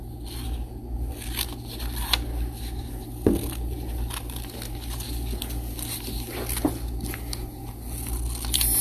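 Scissors cutting paper during a craft session for young children, a soft run of snips and paper rustles at close range, with a few sharper crisp cuts standing out and no talking.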